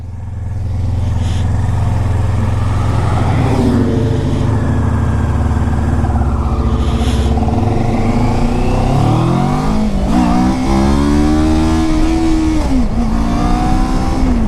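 A motorcycle accelerating hard in first gear, engine revving up with rising pitch and loud, close exhaust roar, holding high revs through several surges with no talk.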